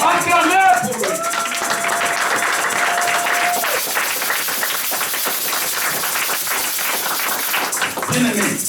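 Church congregation applauding and clapping together in a sustained, lively burst that fills the room, following a brief sung or spoken phrase at the start.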